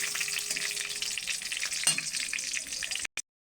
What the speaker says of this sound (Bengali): পাঁচফোড়নটা একটু ভাজা করে দেব।